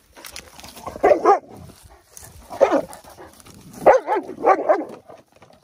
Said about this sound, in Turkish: Sen vov vov vov niye yapıyorsun?